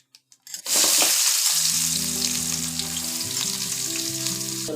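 Fenugreek seeds and asafoetida spluttering in hot oil for channa dal sambar, a few sharp crackles followed by a loud, continuous sizzle that holds steady.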